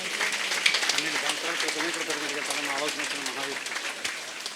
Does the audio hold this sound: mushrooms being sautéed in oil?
no